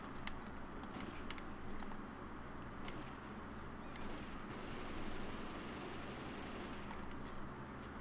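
Explosive-round gunfire in Left 4 Dead 2, played on a custom map: scattered sharp shots and short bursts over a steady, rumbling game ambience, moderately loud and continuous for about eight seconds.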